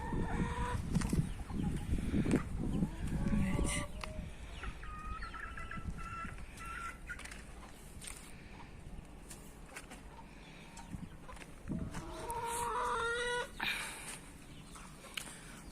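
Chickens cluck and murmur in bursts, near and fairly loud at first, then quieter, with a rooster-like crow mixed among scattered farmyard noises.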